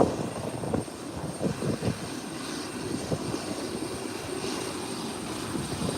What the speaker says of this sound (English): Here comes the Beechcraft 1900.